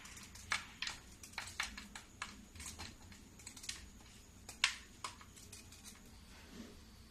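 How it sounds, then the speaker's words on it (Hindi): A knife slices jaggery into thin pieces, giving a scattered series of sharp, crisp clicks and cracks, close but fairly faint, with short quiet gaps between cuts. "तो इसको मैं चाकू से काट लूंगी।"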